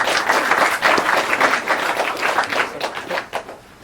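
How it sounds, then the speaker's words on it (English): A crowd at the opening of a new spa in Natadola, Fiji applauds a government minister with brisk, dense clapping that stays loud for several seconds and then thins out toward the end. "Please have another round of applause for the Minister."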